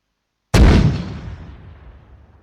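A single mortar shell fires in the ArmA 3 military game, a sharp loud boom with a long rumbling tail fading over about two seconds, heard alone after a moment of silence.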